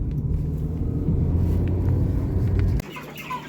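Low, steady rumble of a car driving along a bumpy village road, with faint rattles on top, which drops away abruptly near the end, leaving quieter background with a few high chirps.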